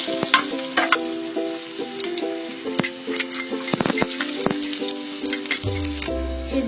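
Garlic sautéing in oil in a pan for kare-kare, a steady close sizzle with sharp clinks and scrapes of a utensil stirring throughout, ending with a low hum near the end.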